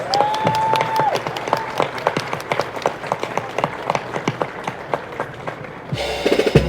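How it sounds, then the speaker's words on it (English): An outdoor crowd at the Magic Kingdom's daily flag retreat ceremony applauds an Army sergeant, with steady crisp clapping, some very close, and a brief tone near the start before a different noise at the end. "Please give him a big round of applause."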